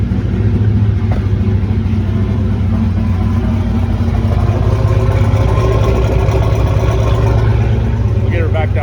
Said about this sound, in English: Not a bad cold start.